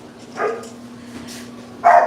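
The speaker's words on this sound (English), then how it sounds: "They all bark at each other when they first start coming in." Several dogs barking at each other indoors, with a couple of short, close barks separated by a pause, over a low steady hum.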